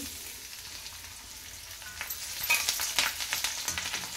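Finely chopped garlic hits hot oil in a pan, with a soft sizzle that swells into crackling, spitting bursts as it fries, close and without talk.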